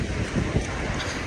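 Wind on a cold, rainy UK day buffets the microphone in rough, uneven gusts, a loud low rumble with bursts of roaring that carry on without pause.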